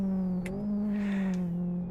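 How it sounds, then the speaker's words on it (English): Engine of a modded car in the Live For Speed racing game, a steady aggressive drone held close and loud, with a brief high whine layered on top and no talk over it. "This sounds like quite a aggressive engine in this car"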